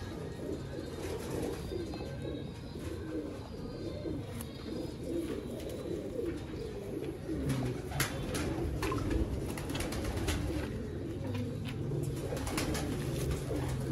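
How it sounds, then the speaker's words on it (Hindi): A flock of pigeons coos steadily and close by, with overlapping soft throaty calls, scattered flutters and brief chirps, and no one speaking. "ये देखिए माशाल्लाह कबूतर का पार।"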